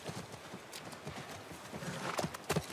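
Horse hooves clip-clop steadily through a dense cinematic scene in The Last of Us near a ranch, with a brief neigh near the end, all under a busy, noisy ambience.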